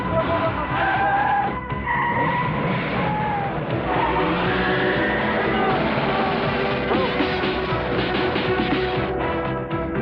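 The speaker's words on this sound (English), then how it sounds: "look, for example, at this scene involving a new edition of Bond's famous Aston Martin" An Aston Martin in a James Bond film action scene skids with sustained tire squeal and engine roar over loud, continuous, busy soundtrack noise.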